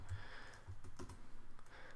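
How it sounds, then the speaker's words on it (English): Keyboard typing on a computer while entering Swift code, a quick run of light clicks spread across two seconds, close and fairly quiet, with no talking over it. "typing the class name"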